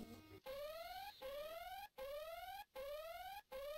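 An electronic alarm system in a video game repeats in rising sweeps, each tone climbing in pitch for about half a second and cut off by a brief gap before the next.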